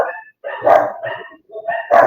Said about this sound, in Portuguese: Peraí que os cachorros estão